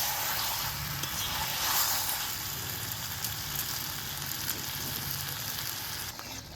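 Potatoes sizzle steadily in hot oil in a pan for a chicken tarkari, with the soft scrape of stirring over a continuous close frying hiss and no voices.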